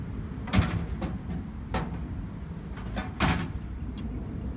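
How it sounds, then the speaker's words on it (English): A van door is opened by hand, with a few sharp clunks and latch knocks spread across a quiet interior background. The sounds are close and distinct, and no one speaks. "So open the door."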